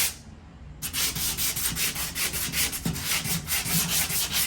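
Dried spackling on a wall is sanded by hand in quick, steady back-and-forth rasping strokes, close and loud, beginning after a brief quiet moment, with no voices.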